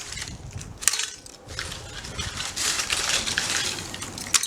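Eggshells being ground in a hand-cranked corn grinder, a close, gritty crunching and cracking that runs irregularly throughout with occasional sharper snaps.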